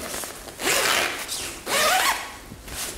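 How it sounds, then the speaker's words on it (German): Zipper pulled shut on the cover of a Quenox 5-in-1 folding reflector, heard as two drawn-out rasping zips with a brief pause between them and a shorter tug at the end, close and clear. "Und jetzt machen wir einfach den Reißverschluss wieder zu."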